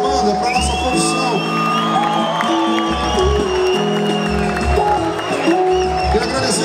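Live crowd at a poolside pagode show cheering, whooping and clapping for the band, a loud continuous roar of voices and applause with music carrying on underneath.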